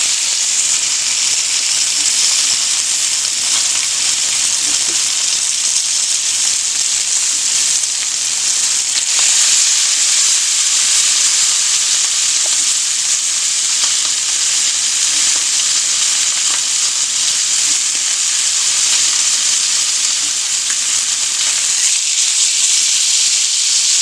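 Chuck eye steak sears in a hot iron skillet, a loud, steady broadband sizzle that holds constant for the whole stretch with no voices over it.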